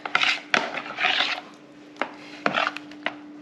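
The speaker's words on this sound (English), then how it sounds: "So what we'll do here is give them a stir." Spoon stirring meatballs in sauce in a crock pot, a few scraping strokes and knocks against the pot, close and uneven with a faint steady hum beneath.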